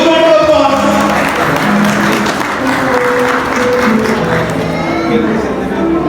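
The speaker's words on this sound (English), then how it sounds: "Give a huge round of applause." Loud audience applause at a college annual investiture ceremony after a first-position award is announced, many hands clapping together in a sustained roar, with a few voices and murmurs from the crowd mixed in.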